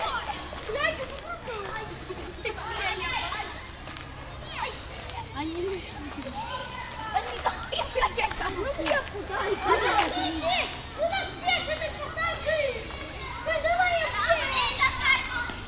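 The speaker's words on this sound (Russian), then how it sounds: "Ну и детская площадка с песком." Children play and chatter at a sandy playground outdoors, many young voices overlapping with shouts and calls, steady and lively throughout.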